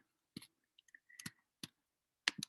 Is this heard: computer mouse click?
yes